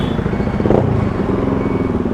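Loud, steady exhaust rumble from a Bajaj NS 200 motorcycle fitted with an Akrapovič exhaust, idling close by with a deep throbbing drone and a brief swell partway through.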